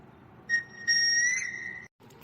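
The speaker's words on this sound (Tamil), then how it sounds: "இவன் இதுக்கு சம்மந்தம் இல்லாமல் வந்து விசில் அடிச்சிட்டு இருக்கான்" A person whistles a clear, close tone in two short phrases, the second held steadily before cutting off, with no talk.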